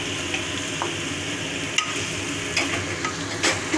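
Chopped banana flower and chickpeas fry with spices in a pan, giving a continuous close sizzle with scraping stirs scattered throughout and no one speaking.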